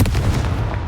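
A Confringo explosive spell blast in Hogwarts Legacy lands as a single heavy boom with a rumbling tail that fades over less than a second.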